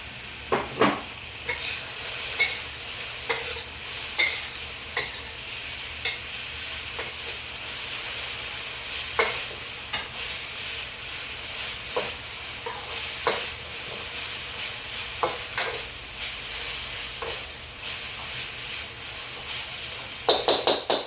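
Egg fried rice stir-fried in a very hot wok, a steady loud sizzle and hiss with repeated scraping clacks of the spatula against the metal throughout, no voices.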